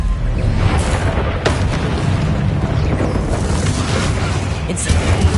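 The Confringo explosive spell in the Hogwarts Legacy video game: dense booming blasts and crackling bursts fill the whole stretch with sharp hits standing out, loud and continuous, with no talk over them.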